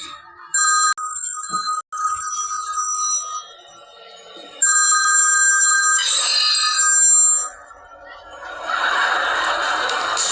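A mobile phone rings with a bright electronic ringtone, repeating bursts of high-pitched tones that start and stop over several seconds, loud and close with brief pauses between phrases.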